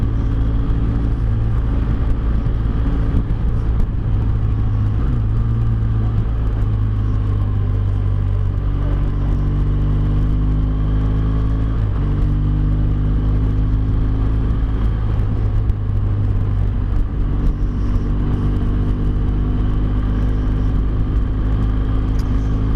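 A big motorcycle cruises along a road, its engine a deep, steady rumble with wind roar, rising and falling through several gear changes as it rides, loud and close with no talking.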